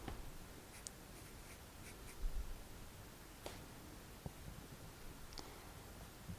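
Faint scratchy strokes of an edible pen drawing letters onto a Minecraft-themed cake, soft intermittent ticks and scrapes close up in a quiet room.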